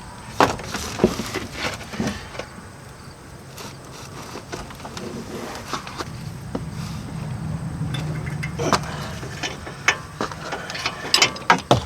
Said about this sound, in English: Now I'm going to take off the caliper bracket. So I'll switch into the 18mm. And we may need the breaker bar.